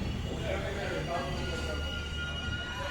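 The 19255 Surat Mahuva Express pulls into Damnagar railway station, a continuous rumbling rail hum heard from inside the carriage with steady wheel and track noise throughout, a voice talking over it.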